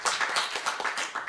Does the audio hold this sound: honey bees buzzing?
no